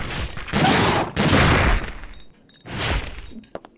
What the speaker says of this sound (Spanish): Ya salió el disparo